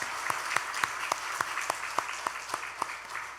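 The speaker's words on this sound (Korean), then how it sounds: "감사의 인사를 우리 박수로 하답하겠습니다" A small church congregation claps in a steady, sparse rhythm, individual hand claps distinct and evenly spaced, fairly close, with no voices.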